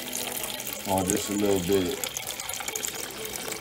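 Tap water runs steadily into a container for soaking purple and gold Irish sea moss, a continuous rushing stream with a brief spoken remark partway through.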